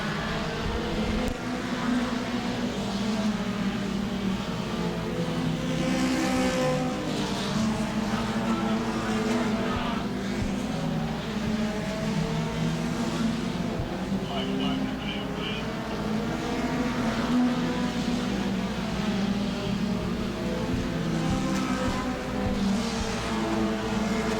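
Modified mini race cars circle a track at Auburndale in a 30-lap event, engines droning steadily at a distance for the whole stretch while an announcer talks over the race.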